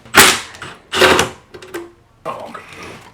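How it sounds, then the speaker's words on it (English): Screws being pulled from an LG 5,000 BTU window air conditioner, heard as three loud, close mechanical bursts with brief pauses between them. "Start pulling screws."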